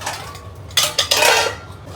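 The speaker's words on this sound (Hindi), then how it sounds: "इतने सारे बर्तन एक साथ कोई कैसे धुले भाई" Dishes, pots and utensils clatter as they are washed, with a quiet rinse giving way to two loud, close bursts of clanking metal and crockery.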